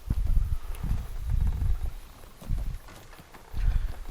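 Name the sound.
horse hooves clip-clopping in a video game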